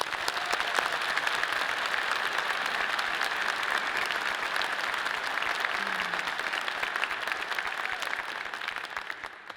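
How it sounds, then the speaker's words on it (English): An audience at a university graduate school commencement applauds the graduates in steady, dense clapping that holds for the whole stretch, full and close, then thins slightly near the end. "Please join me in a round of applause as we congratulate today's graduates."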